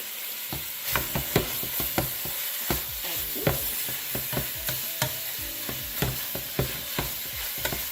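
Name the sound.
ground beef frying in a pan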